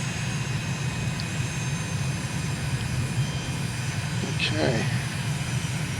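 An aircraft engine spools up with added power in Microsoft Flight Simulator on approach over Lake Lucerne, Switzerland, a steady, loud drone with a faint rising whine, as a voice speaks briefly over it.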